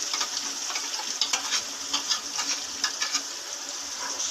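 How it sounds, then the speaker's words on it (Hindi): Masala with yogurt frying in a pan for a fish curry, a steady crackling sizzle with soft stirring scrapes and light ticks throughout, close and even, no talking. "अब इसको अच्छी तरह मसाला भून लेंगे।"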